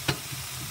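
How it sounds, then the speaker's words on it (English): Vegetables fry in a non-stick pan on a stovetop over medium heat, a short soft sizzle with a quick stir or clatter at the start, faint and close, without talk. "And the juices are frying, causing it to fry."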